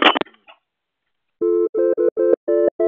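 A telephone rings in a run of electronic warbling tone bursts, loud and close, following a moment of silence after brief sounds at the start.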